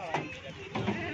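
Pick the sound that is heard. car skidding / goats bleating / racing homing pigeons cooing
goats bleating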